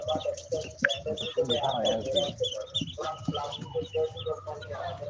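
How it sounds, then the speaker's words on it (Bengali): Ducks quack and chatter in a noisy flock close by at a hatchery, with a person talking over the birds. "এগুলা হচ্ছে হাঁস"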